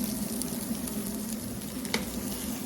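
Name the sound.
smoked tofu frying in a pan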